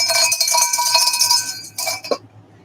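A bell rings with a bright, sustained metallic tone that rings steadily for about two seconds, followed by a short knock before it cuts to silence.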